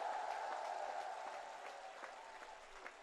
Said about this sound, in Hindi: भाइयों बहनों, जोर से तालियां उन वैज्ञानिकों के नाम पर बजाइए।